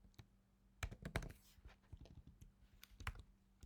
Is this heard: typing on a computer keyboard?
yes